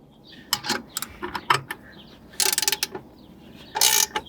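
Wrench tightening the ball nut on a GVPower Hitchin' Post Plus trailer hitch for a lawn tractor or ATV: a few separate ratcheting clicks and scrapes, close and fairly loud, with short pauses between bursts.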